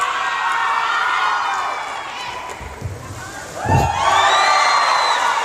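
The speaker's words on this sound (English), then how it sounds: "Every fasheng, every release shout echoed by the crowd here in the Jakarta International Expo." A crowd at a martial arts performance at the Jakarta International Expo during the 18th Asian Games cheers and whoops, dips briefly, then surges again into loud shouting.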